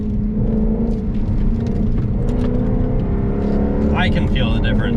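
Jaguar F-Type R engine during a downshift while driving, with a steady, loud droning roar and a rising rev blip near the end.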